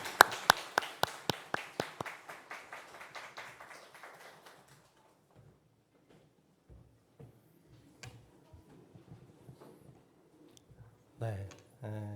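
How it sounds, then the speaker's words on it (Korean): Applause in a church founding service: a burst of clapping from the congregation that thins out within a few seconds into scattered claps, then quiet with faint room sounds and brief voices near the end. "우리 하나님께 영광의 박수 올려드립니다."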